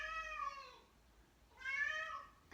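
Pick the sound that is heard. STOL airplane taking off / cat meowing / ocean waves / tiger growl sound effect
cat meowing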